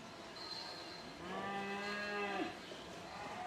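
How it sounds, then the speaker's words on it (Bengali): A single long, low moo from a brown Sahiwal cow on a farm swells up in the middle and fades, heard fairly close over a steady background hum. "এটা হচ্ছে ব্রাউন কালারের গরু"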